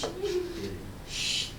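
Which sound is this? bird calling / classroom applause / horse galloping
bird calling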